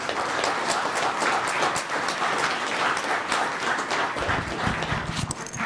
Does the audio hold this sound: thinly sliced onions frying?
no